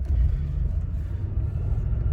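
A Lincoln Town Car Signature Series rolls along with a steady low engine and road rumble, fairly loud and even throughout, with no talk over it.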